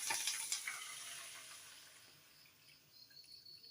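Water is poured into a cooking pot, a close hissing splash that is strongest at first, then thins to a quieter trickle and swirl.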